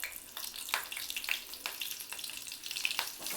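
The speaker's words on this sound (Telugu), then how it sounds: "వేరొక బాణలిలో కొంచెం ఆయిల్ వేసుకొని దానిలో ముందుగా కట్ చేసి పెట్టుకున్న పచ్చిమిర్చి" Chopped green chillies frying in a little hot oil in a pan, a close, crisp sizzle with sharp crackling pops every half second or so.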